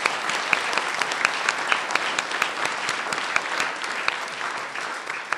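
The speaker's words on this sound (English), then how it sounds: "let's clap for that" Applause from a conference audience after a panel discussion, a dense, continuous patter of many hands clapping, fairly loud and steady from start to finish with occasional sharper claps standing out.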